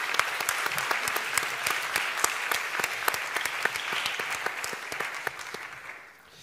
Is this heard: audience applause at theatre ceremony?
yes